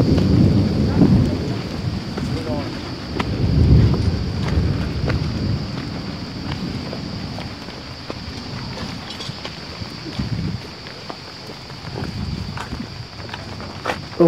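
Heavy rain with rumbling thunder at a house construction site during a historic flood season, a steady wash of rainfall with low rolling rumbles rising and fading across the clip.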